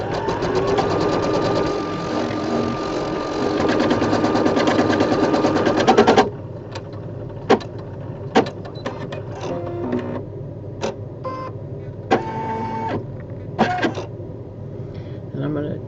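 An embroidery machine sewing a placement stitch for batting and background runs for several seconds as a fast, even mechanical chatter, then stops and leaves scattered clicks and handling noises with a person talking.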